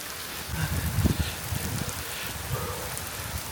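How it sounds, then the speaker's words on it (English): Steady broadband hiss of heavy rain pouring down, with some low thumps and brief rustling near the middle. "Oh dear, here comes the downpour."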